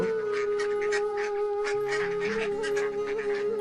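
Cartoon ducks at a pond-side duck farm quack in a rapid, repeated series of nasal calls, loud and close over a sustained musical tone.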